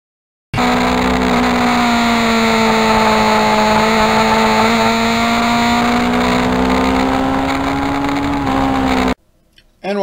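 The engine of a 1991 Yamaha FZR 1000 sport bike runs loud and close at a high, steady rev with a slowly rising pitch for several seconds, then cuts off sharply before a brief burst of noise at the end.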